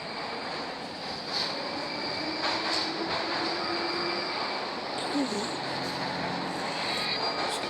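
A subway train inside a horror video game, a steady rumbling rail drone with faint wheel squeals and clacks throughout, continuous and moderately loud.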